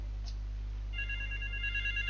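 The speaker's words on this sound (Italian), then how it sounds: "ah giusto il telefono" An in-game telephone rings in GTA 3, a steady electronic trill entering halfway through and repeating over a low constant hum of game background noise.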